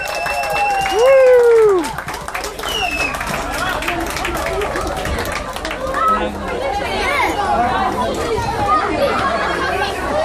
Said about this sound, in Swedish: Mina damer och herrar, ge mig stor applåd.